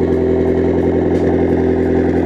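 Car engine with a 3-inch turbo-back straight-pipe exhaust idling after a cold start, a loud, steady, throaty drone with faint ticking clatter throughout.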